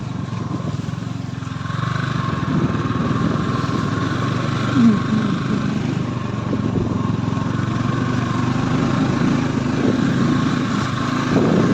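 A Yamaha R15 motorcycle rides off-road near flowing water, its engine droning steadily and loudly at close range throughout, with faint voices in the background.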